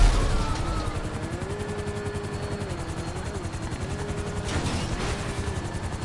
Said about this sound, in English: Guys, are you getting in this helicopter or not?